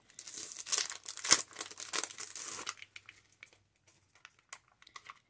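A plastic sticker package is crinkled and torn open at close range: a dense burst of crackling rustle for a few seconds, then sparse small clicks and crinkles fading out.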